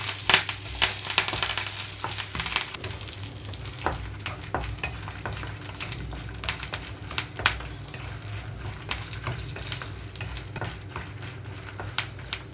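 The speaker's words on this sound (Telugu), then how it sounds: "వేడైన తర్వాత ఎండుమిరపకాయలు వేసి వేయించుకుంటున్నాను" Dried red chillies and curry leaf sprigs fry in hot oil in a pan for kandi podi, with dense crackling sizzle and sharp pops, loudest at the start, then settling into steady frying with occasional stirring clicks.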